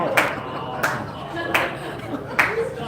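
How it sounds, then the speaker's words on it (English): A lone audience member claps at a live stand-up comedy show in Toronto, four sparse, sharp claps spaced unevenly in a quiet room. "This side now quiet, one guy clapping over here."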